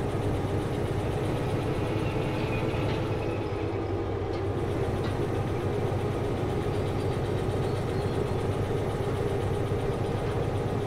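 Locomotive engines idling in the train game Derail Valley, a steady low diesel rumble and hum holding evenly throughout, with faint mechanical clinks on top.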